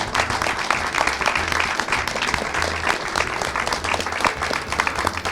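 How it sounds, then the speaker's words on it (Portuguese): Steady applause from an audience closing a program, a continuous wash of many hands clapping at moderate level with a faint background murmur. "queríamos concluir esse programa com uma imensa salva de palmas por cada um de vocês."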